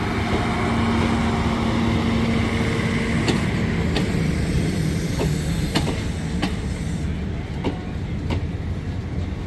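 A special excursion train hauled by a JNR Class CX50 Pacific steam locomotive rolls past close by, a continuous loud rumble punctuated by regularly spaced clacks of wheels over rail joints.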